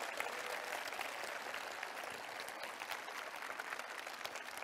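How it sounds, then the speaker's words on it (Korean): Crowd applause at a talk concert with Seongnam citizens, a continuous, fairly dense patter of clapping heard at a low, distant level without a clear rise or fall. "여러분 박수 한번 부탁드리겠습니다"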